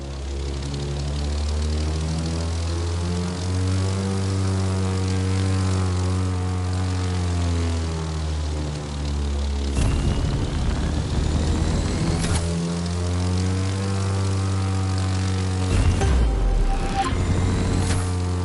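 A propeller plane flies a full loop in the racing video game The Crew 2, its loud, steady engine drone shifting in pitch as it climbs and turns, with rushing bursts near the middle and end.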